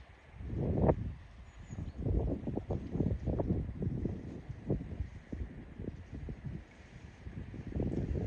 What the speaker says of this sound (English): But the wind is good, it's towards me.